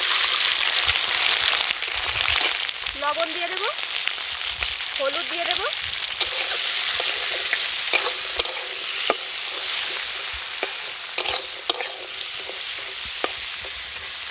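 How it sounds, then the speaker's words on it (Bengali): Crabs sizzle and fry in hot mustard oil in a wok during village-style crab curry cooking, a steady loud crackling hiss throughout with brief stirring scrapes and a voice speaking over it. "তেল গরম হয়ে গেছে, এবার আমি সব কাঁকড়াগুলো দিয়ে দেব।"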